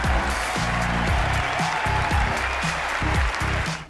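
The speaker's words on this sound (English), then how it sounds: "A round of applause, please!" Audience applause after an Australian dance number at a virtual variety show, dense steady clapping sustained throughout at a loud, even level, with music tones running underneath.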